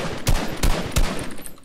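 A cannon firing in a video game: three heavy booming blasts in quick succession, loud and close, followed by a quieter rumbling tail.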